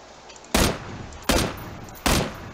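Three loud, sharp gunshot bursts from the video game PUBG, evenly spaced about three-quarters of a second apart over a steady background hiss, with no talking.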